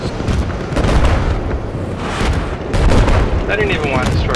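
A truck blows up in the video game Battlefield 4 amid heavy booming blasts and rumbling gunfire that stay loud and dense throughout, with a player talking over the chaos.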